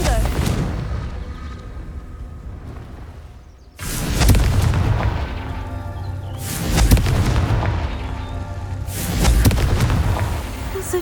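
Confringo fire spells burst in Hogwarts Legacy as a series of four loud, booming explosions spaced a few seconds apart. Each blast rings out with a long, rumbling tail.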